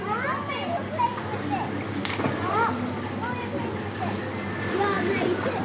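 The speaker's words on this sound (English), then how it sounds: "And this is the pool area." Children play and shout at an outdoor hotel pool at the Crysanthi apartments in Pefkos, Rhodes, with scattered splashes and a steady buzz of kids' voices throughout.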